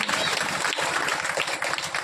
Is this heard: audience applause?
yes